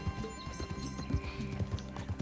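Hoofbeats from a horse in the Red Dead Redemption 2 video game clop in a brisk, even rhythm, close by and mixed with background game music.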